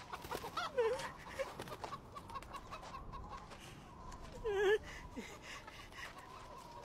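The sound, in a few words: chicken clucking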